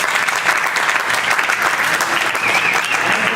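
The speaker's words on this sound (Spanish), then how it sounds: "Ok, un aplauso para ellos." Church audience applauding first-time visitors during a service, a loud, steady burst of many hands clapping together throughout, with a few voices mixed in.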